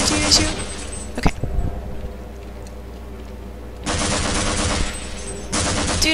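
Gunfire in the video game Half-Life: loud sustained bursts of rapid shots with a sharp blast between them and a quieter gap in the middle.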